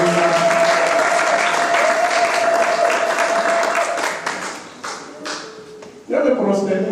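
A church congregation applauding and cheering to acclaim God, a dense sustained wash of clapping and voices that thins out and stops, with someone speaking as it fades.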